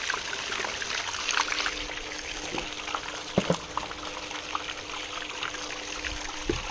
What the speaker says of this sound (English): Get a little bit of water in here.